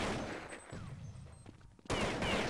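Gunfire crackles in a Counter-Strike match, a steady spatter of distant shots followed by a sudden louder burst near the end.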